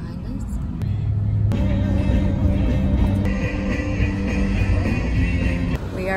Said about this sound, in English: In the van on the way to New York City.